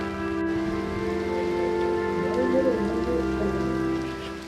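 Heavy rain pours down at Thangassery lighthouse on the coast near Kollam, Kerala, a loud, dense, continuous patter close by, with no voices.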